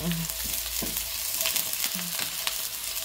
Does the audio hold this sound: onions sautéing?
yes